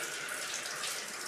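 A shower head sprays water while a dog is bathed, a steady hissing spray that is soft and continuous, with no voices over it.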